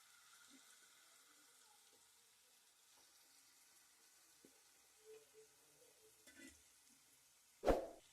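Marinated chicken liver pieces fry in tomato paste in a pan, giving a faint, steady low sizzle with a few soft stirring clicks and one louder clatter near the end.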